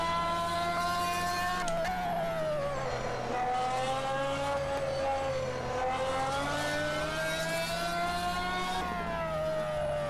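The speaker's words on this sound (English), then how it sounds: "This is how it sounds outside." Ferrari SF15-T Formula One engine heard from outside in Assetto Corsa at the Red Bull Ring, a continuous high-pitched whine rising and falling with gear changes, loud and steady with no talk.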